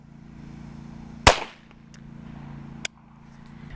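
Two sharp gunshots from a Ruger Mark I pistol, a loud close crack followed by a brief ringing tail, then a second shot over a steady low hum, with no talk.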